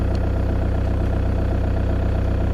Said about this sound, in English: Now let's go and start the engine